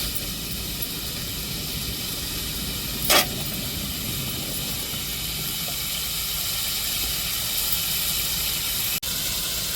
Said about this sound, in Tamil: எண்ணெயிலேயே அப்படியே வேகட்டும் கருவாடு